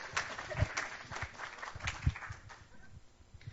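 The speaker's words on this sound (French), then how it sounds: "On peut l'applaudir, hein." A crowd claps together in a dense, steady patter that lasts a few seconds, with a little voice mixed in.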